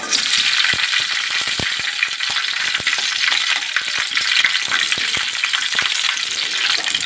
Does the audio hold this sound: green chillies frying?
yes